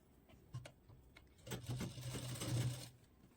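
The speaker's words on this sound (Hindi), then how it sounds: "फिटिंग वाली सिलाई यहाँ पे हमने देखिए लगा दी है, दोनों साइड से इस तरीके से लगा देंगे" A sewing machine stitches an old net dupatta, with a faint short whir early on and then a steady run of rapid stitching for over a second, heard close in a quiet room.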